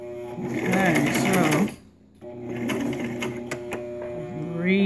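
A sewing machine stitches fabric for a scrunchie in close, steady whirring bursts with a short pause in the middle, while someone talks over it.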